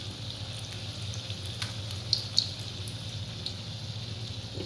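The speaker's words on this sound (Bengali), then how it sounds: "খুব হালকা হাতে এটাকে ফ্রাই করবেন" Paneer pakoda frying in hot oil, a steady soft sizzle and bubbling, close and fairly quiet, with a couple of light clinks.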